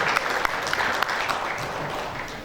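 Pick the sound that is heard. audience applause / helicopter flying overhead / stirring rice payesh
audience applause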